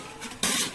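A plate set down as a lid over a pot of cooking rice for fish biryani, a single short clatter of metal and dishware after a soft sizzle.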